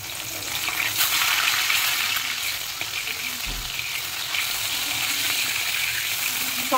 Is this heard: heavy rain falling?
no